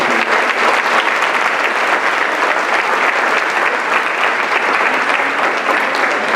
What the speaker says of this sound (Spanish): Hay un fuerte aplauso.